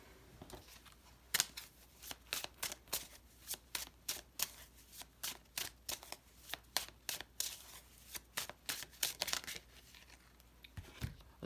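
Tarot cards are shuffled by hand in quick, crisp riffling bursts, close and fairly loud, repeating irregularly with short pauses between shuffles.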